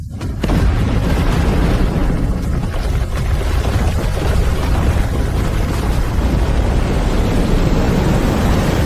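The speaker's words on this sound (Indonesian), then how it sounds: "Ledakan segera. Ini satu-satunya jalan keluar." A detonated explosion, a loud boom followed by a long, heavy roaring rumble that stays dense and powerful to the end, with no voices.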